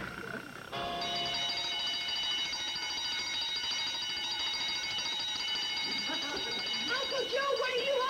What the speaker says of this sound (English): the alarm alerts us to the culprit that's trying to sneak in